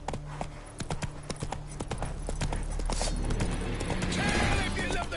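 Horse hooves clip-clop in sharp, regular beats in The Witcher 3, mixed with creaking, rattling game sounds and a low rumble building toward the end; some speech is faint underneath.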